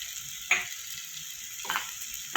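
Spiced masala with Kashmiri chilli powder frying for a fish curry, a quiet steady sizzle with a few brief louder stir clatters spaced through it.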